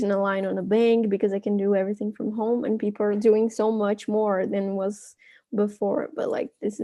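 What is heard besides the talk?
No everyday noise stands out behind the speech.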